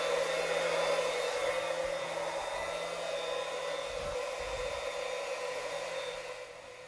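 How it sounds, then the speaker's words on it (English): A steady, loud mechanical whine with broadband hiss runs continuously, a small pump motor straining as a water heater tank runs empty, tapering slightly near the end. "That whining means we've got all the water out of the water heater."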